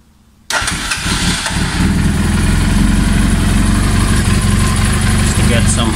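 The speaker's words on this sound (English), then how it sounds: "so I just switch on the bike." Motorcycle engine cranking and catching abruptly, then settling into a loud, steady, rumbling idle that continues unbroken, close to the listener with no talk over it.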